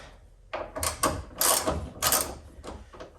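Metal bolt being worked loose and pulled from a Ford Ranger tailgate hinge, a series of close, scraping mechanical clicks and rattles in several short bursts.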